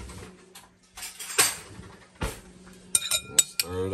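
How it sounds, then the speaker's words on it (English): A utensil stirs a beefsteak marinade with black pepper in a bowl, giving irregular clinks and scrapes against the dish with short pauses between strokes, close and fairly loud, with no speech. "Then you wanna stir it up."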